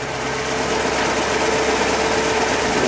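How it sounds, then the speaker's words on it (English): A 1950 Buick Roadmaster convertible engine runs at a steady, slightly high idle, a smooth continuous rumble heard up close with no talk over it. "And that sounds a little high idle."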